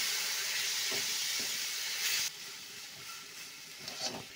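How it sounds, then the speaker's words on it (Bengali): Jackfruit masala with chili powder and a splash of water hisses and sizzles loudly in a pan as it is stirred, with the steam hiss dropping partway through and a few scraping strokes. "অল্প একটু জল দিয়ে এটাকে নাড়াচাড়া করতে হবে, ভালো করে কষাতে হবে।"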